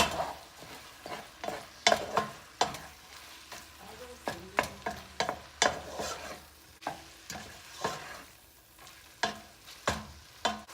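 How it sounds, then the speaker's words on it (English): Sausage and chopped onions sizzle as they brown in a frying pan, a steady close frying hiss broken by repeated sharp scraping and stirring knocks of a utensil against the pan, with no talking. "We're just gonna let that continue to cook and brown up here."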